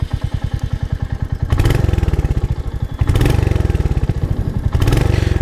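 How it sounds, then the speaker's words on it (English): A Royal Enfield Hunter 350 motorcycle cranks and fires up, settling into a loud, close, even thumping idle with three short bursts of heavier throttle. "Starting it up pretty straightforward. Uses a key. Okay, twist the key, push the starter,"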